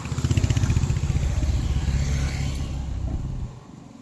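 Motorcycle engines rumble loudly nearby with a pulsing throb, then thin out as they pass and fade, in Darjeeling.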